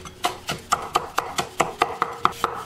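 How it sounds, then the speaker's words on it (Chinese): Scallions chopped with a kitchen knife on a cutting board, about a dozen crisp, evenly spaced knocks in a quick steady rhythm, close and clear, with no talking. "再切一些葱花"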